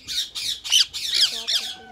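Ringneck parrots squawk in a rapid run of shrill, harsh calls while feeding on sweet corn, beetroot, apples and carrots, five or six loud bursts close by with no talking.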